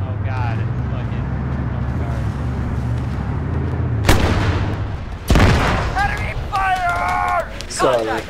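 Gunfire in the military game Arma 3: two sudden, loud bursts cut through a steady engine-like drone, while voices talk over the din.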